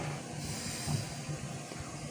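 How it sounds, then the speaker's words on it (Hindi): Milk comes to a boil in a pot on the stove for carrot halwa, giving a steady, fairly faint hiss and low bubbling rumble throughout with no voices. "दूध को देखें बहुत अच्छे से बॉयल आ रहे हैं, तो मैं इसको मीडियम फ्लेम पे पकाऊंगी"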